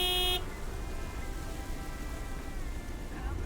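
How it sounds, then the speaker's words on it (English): A big white truck sounds a short, loud horn blast at the start, followed by a steady low engine rumble and faint tonal traces from the horn fading away. "Big, white, wobbly, and with a honking great horn."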